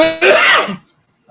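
One sharp, loud human sneeze during a sports podcast, close to the microphone, bursting out and then trailing off into silence.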